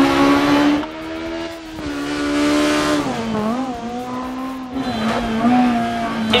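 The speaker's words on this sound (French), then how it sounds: "On va essayer de faire de beaux freins à main pour le public." A rally car on a wet road revs hard through hairpins, its engine note surging and dropping in clear harmonic sweeps as it slides under handbrake, loud and close without pause for about six seconds.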